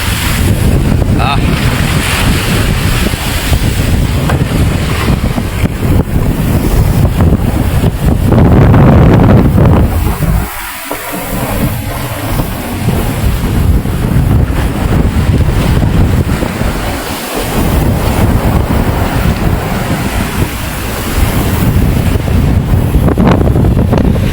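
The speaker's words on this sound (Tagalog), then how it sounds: "Pag nabugso ay malakas talaga yung hangin. Kaya mabilis lumaki yung alon pag malakas ang hangin." Strong wind roars and buffets the microphone continuously while heavy sea waves surge and crash around at sea, loud and close throughout.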